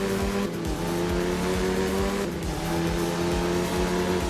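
A Japanese car in a racing video game drives a tarmac rally stage on a Japan course, its engine droning steadily at high revs with tires squealing through corners, loud and continuous.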